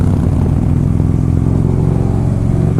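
A 2009 motorcycle with a 96 cubic inch engine idling, a loud, steady low rumble with a throbbing, uneven beat, close by and continuous with no other sounds.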